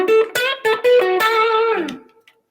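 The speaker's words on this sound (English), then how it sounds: "it is a Boss Blues Driver pedal with a Keeley modded one" An electric guitar played through a Keeley-modded Boss Blues Driver pedal with a little built-in reverb picks a short, clean-edged run of single notes. The final note bends downward and rings out into silence.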